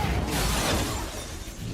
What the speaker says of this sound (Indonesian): langsung memecahkan kaca yang ada di hadapannya